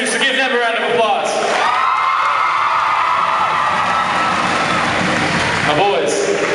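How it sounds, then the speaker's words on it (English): Loud crowd of students cheering and applauding at a high school senior pep rally, a continuous roar of shouts and clapping close by throughout. "give them a round of applause"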